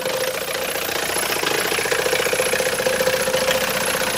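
A 1967 Mercedes W110 200D diesel engine idles while still warming up, a steady, loud, close clatter with a rough knocking rattle throughout.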